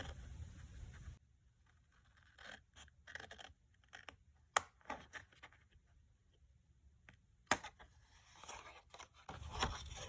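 Card stock being cut by hand with scissors for a pop-up mailbox card, heard as crisp close-up snips and crunchy paper scrapes in short irregular bursts, with quieter pauses between.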